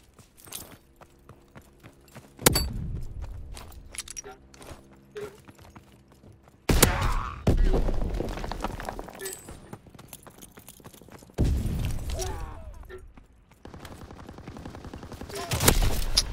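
Gunfire in the World War II shooter game Call of Duty WWII, with several loud bursts of rapid firing separated by quieter stretches of faint ambient noise.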